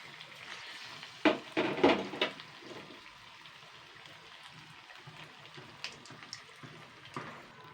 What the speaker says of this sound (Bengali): এক সাইড ভাজা হয়ে গেছে আমি এক সাইড উল্টে দিচ্ছি